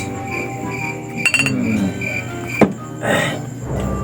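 Beer glasses clink together in a drinking toast, a bright cluster of quick chinks near 1.3 s with another sharp clink around 2.6 s, heard close over steady background noise.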